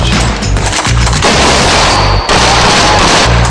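Sustained heavy gunfire from higher-powered, longer-range weapons laying down maximum firepower, loud and dense with overlapping rapid bursts and booming reports filling the whole stretch.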